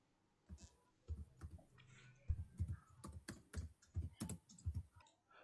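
Keys clatter on a computer keyboard in quick bursts of close, crisp clicks with short pauses between runs, no voices.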